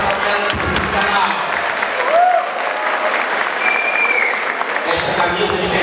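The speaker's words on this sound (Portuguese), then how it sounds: "a salva de palmas" Audience at a sports federation gathering breaks into sustained applause, dense clapping filling the room, with voices talking over it and cheering near the end.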